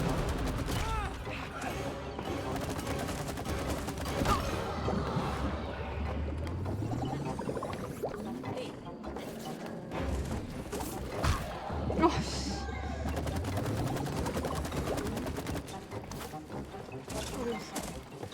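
Gunfire at a wood beetle boss in a video game comes as a dense run of rapid shots and impacts over about eighteen seconds. Creature roars, mechanical game effects and a low rising hum mix in.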